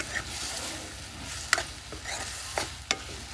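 A ridge gourd curry is stirred in a pan over a soft, steady sizzle, with a few sharp scrapes of the spoon against the pan.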